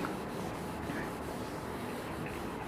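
A board being rubbed out to erase chalk writing in a classroom, giving a soft, continuous scrubbing rasp that stays faint and steady throughout.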